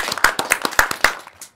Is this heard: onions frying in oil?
no